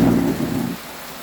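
Heavy rain pours down with a deep rumble of thunder, loud and close at first, then the rumble fades out, leaving a steady hiss of rainfall; no voices are heard.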